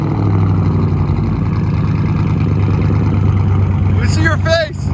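A straight-piped Chevy Camaro SS V8 runs loud and steady close by, its deep rumble continuous for several seconds, with a brief burst of voices near the end.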